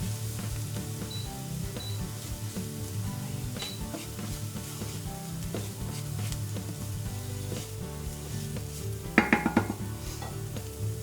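Onion and flour cooking in a pan for vegan Asturian fabes with clams, a soft steady sizzle with occasional stirring scrapes and a brief clatter of utensils near the end.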